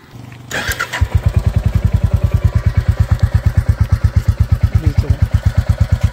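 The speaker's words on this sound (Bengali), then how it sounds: "চলেন আপনাকে সাইলেন্সের আওয়াজটা একটু শোনাই আমি" A 2024 Royal Enfield motorcycle starts up and settles into its deep, evenly thumping exhaust beat, loud and close, each pulse of the silencer distinct in a steady idle rhythm.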